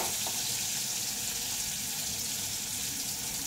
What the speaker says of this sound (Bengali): পটলটা বেশ ভালো করে ভাজছি।